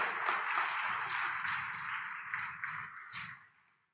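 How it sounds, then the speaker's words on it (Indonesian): An audience at an academic oration applauds, with dense, steady clapping from many hands that fades out over the last half-second. "Aplaus untuk Bapak Ibu sekalian."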